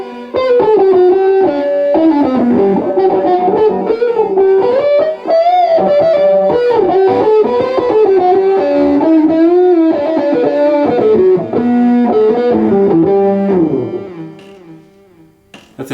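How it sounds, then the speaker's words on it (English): A Roland GR55 guitar synthesiser plays a long echo lead patch, a loud, sustained, slightly distorted melodic line with trailing repeats that runs continuously before fading out near the end. "long echo lead."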